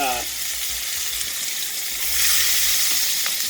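Chili dropped into hot oil with onion for a Bengali mustard fish curry, a loud steady sizzle and crackle that swells after a stir, up close with no pauses.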